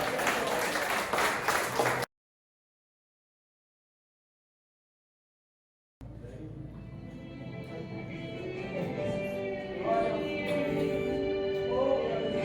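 Congregation at a Brazilian healing and deliverance church service applauding after a short silence, with clapping rising under music-like tones and voices that swell toward the end.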